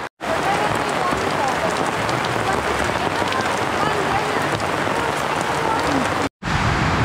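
Heavy rain pours at a beach campsite, a loud, steady rushing patter that fills the whole scene, with two brief silent gaps interrupting the continuous downpour.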